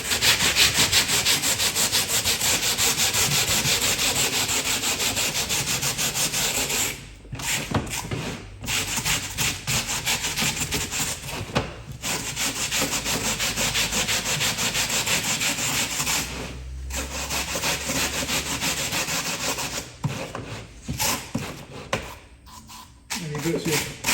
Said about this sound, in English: Scrub that in.